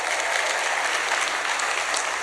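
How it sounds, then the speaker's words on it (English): An audience of teachers at a summit applauds, a dense, steady burst of clapping heard close and loud throughout. "So give yourself a round of applause."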